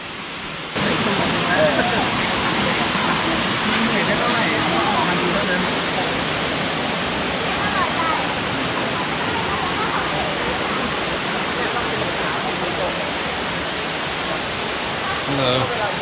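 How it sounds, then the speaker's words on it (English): The fourth tier of Erawan Waterfall in Kanchanaburi, Thailand, begins abruptly in a constant rushing roar that holds steady and loud, a thick wall of white-noise water sound. "This is the fourth waterfall right here."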